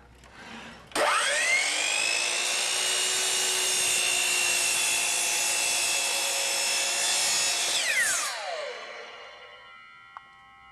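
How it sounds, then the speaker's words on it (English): Hitachi C12RSH miter saw cutting wood: the motor spins up sharply, holds a loud steady whine through the cut, then winds down with a falling pitch, followed by a small click near the end. "You can now make the cut knowing that it will follow your line exactly."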